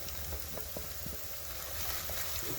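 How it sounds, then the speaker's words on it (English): Spiced pilau rice is stirred in a pot, giving soft, scattered scraping taps over a faint, continuous low sizzle, all fairly quiet and close. "So keep stirring."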